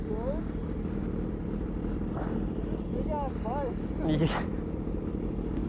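A supercharged 1000 cc Kawasaki Ninja H2 idles beside a 1300 cc Suzuki Hayabusa, a raspy engine rumbling at moderate volume under a voice as he talks, with a few short rising whines.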